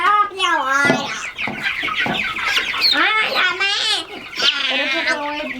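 Backyard chickens and chicks, some of them Sussex, clucking and peeping in a steady, close chorus of varied calls, while people talk quietly now and then.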